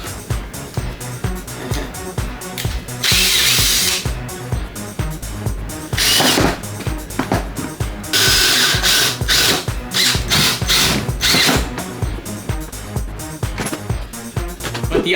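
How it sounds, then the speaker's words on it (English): A power drill whines in loud bursts, biting into wood in several separate runs with short pauses between, close and harsh. "We're gonna drill some holes up here so I can hang them up"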